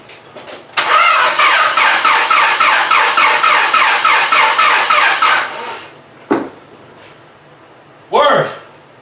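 A turbocharged D16 Honda Civic engine cranks with a long, loud, rhythmic starter churn of about five seconds, then falls quiet, followed by two short bursts of revving.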